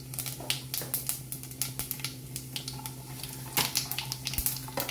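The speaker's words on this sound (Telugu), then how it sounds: "ఇప్పుడు మనం దీంట్లో కొంచెం 1 స్పూన్ జీలకర్ర వేసుకుందాం" Cumin seeds dropped into hot oil for a baingan (eggplant) dish, a fine crackling sizzle with rapid clicky pops running steadily throughout, close and fairly quiet, over a low steady hum.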